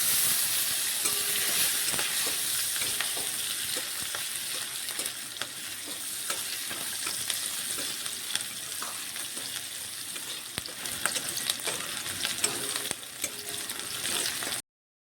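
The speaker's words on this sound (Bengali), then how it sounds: "এবারে কেটে রাখা পেঁয়াজগুলো দিয়ে দিচ্ছি" Steady, close sizzling of chopped onions frying in oil, a continuous crackling hiss with scattered pops and no voices.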